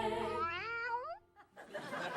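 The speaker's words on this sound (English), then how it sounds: "It's the first time in a long time it's meowed." A cat gives a long rising, wavering meow on a late-night talk show set, quiet and alone, followed by a short vocal sound.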